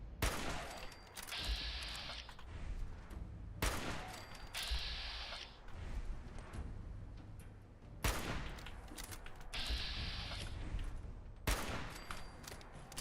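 Repeated loud gunshot bursts in Fallout 4 survival mode, fired in the dark near Sanctuary, coming in several evenly spaced volleys over steady background game ambience.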